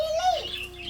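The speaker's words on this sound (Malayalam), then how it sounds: "നമ്മുടെ ഒരു കിളി ചാടിയാ കൂടിൻ്റെ പുറത്തിരിക്കുന്നുണ്ടോ?" A pet bird by its cage gives a short, thin chirp lasting under a second, close and fairly clear over quiet household background.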